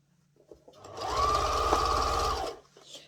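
A sewing machine stitches a zipper into a cushion cover in one continuous burst of rapid needle clatter of about a second and a half, with quiet handling of the fabric before and after.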